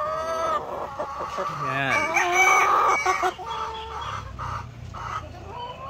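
Laying hens on a poultry farm cluck and a rooster crows nearby, loud and continuous, with someone speaking over the birds.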